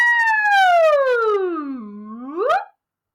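A truck siren wails alone, one long tone gliding smoothly from high to low, then a brief upward sweep before cutting off abruptly; loud and clear.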